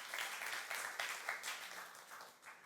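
A church congregation clapping together, a sustained wash of applause at moderate distance that swells and eases slightly over a few seconds, with no one speaking over it.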